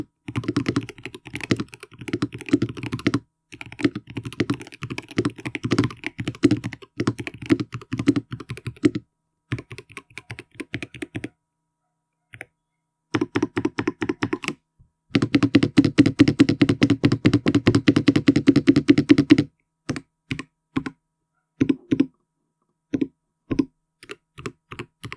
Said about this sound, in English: This just feels so good to type on, with a nice thocky sound to it.